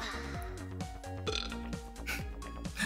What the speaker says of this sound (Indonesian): Kenapa sih gue masih ketawa denger dia sendawa?